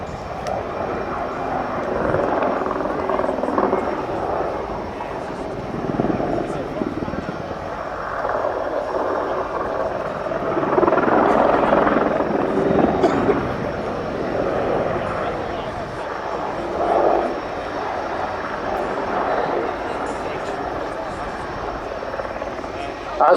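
An Apache gunship helicopter flies a display at the Royal International Air Tattoo 2019, its rotor and engine roar swelling and fading as it passes, loud and continuous outdoors with a crowd-event ambience.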